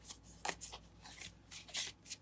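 A rose-petal oracle card deck being shuffled in soft, quick riffles and slides, close and quiet.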